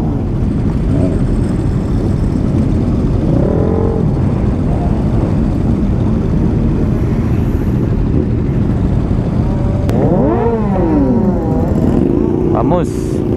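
Superbikes including a Yamaha MT-09, a Yamaha R6 and a Ducati ride at the Villetódromo track, making a steady, loud engine roar throughout with rising and falling revs toward the end, while someone talks over it.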